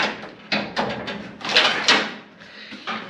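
The door of a Chevrolet Monte Carlo with tight body gaps is opened and closed several times, giving a series of close metallic clunks and latch knocks over a rough rumbling background.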